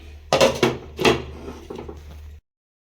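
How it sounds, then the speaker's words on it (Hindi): A lid set onto a pot of egg and potato curry on the stove, giving a couple of close metallic clanks and scrapes followed by softer kitchen clatter, with no talking. "तो इसे हम अब ढक के रख दें।"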